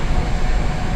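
A Russian metro train runs through curving tunnel tracks at an old Soviet-era line, giving a loud, continuous rumble with a heavy low roar and no talking.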